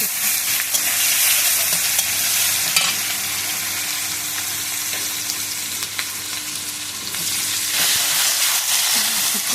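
Onions frying in hot oil with whole cumin, garam masala, dried red chillies and bay leaves, giving a steady, close, loud sizzle with occasional stirring scrapes that runs unbroken for the whole stretch.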